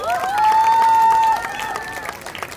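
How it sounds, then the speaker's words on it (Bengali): An audience at a Bengali community drama performance claps for the cast, producing scattered applause under a sustained whistling tone that fades after about a second, leaving the clapping to thin out. "এদের ডেডিকেশনের জন্য প্লিজ একটা জোরে হাততালি"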